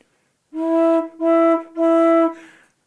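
A small pipe of a positive organ sounds three times in quick succession, steady held tones with a bright, flat timbre and short breaks between them.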